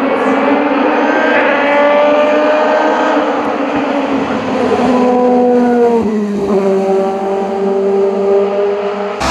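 A Citroën Saxo race car launches at the start of a hillclimb at the Mickhausen event, its engine loud and close, revving up through rising gears and then shifting to a steady, strained drone.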